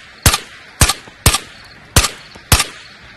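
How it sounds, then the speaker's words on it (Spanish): Five sharp gunshots fired one at a time at a steady, slightly uneven rhythm in the VR shooter game Ghost of Tabor, each loud, close and ringing briefly, with no voices between them. "No sé si escuchaste mis disparos."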